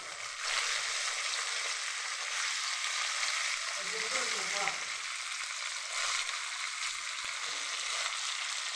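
Dried red chilies and curry leaves sizzle in hot oil as a loud, steady crackling hiss for several seconds, while a voice speaks softly underneath.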